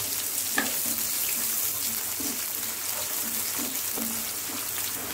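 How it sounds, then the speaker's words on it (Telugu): Sliced onions and green chillies sizzling in oil in a kadai on a stove, a steady soft hiss broken by faint occasional stirring clinks and scrapes. "ఉల్లిపాయలు వేగిపోయినాయి"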